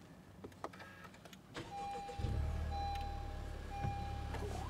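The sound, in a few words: Honda Civic Type R engine starting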